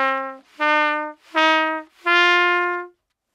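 Trumpet playing a short rising scale with breath-huffed note starts and no tonguing, four bright brassy notes with soft, scooped attacks and small gaps, played close and alone.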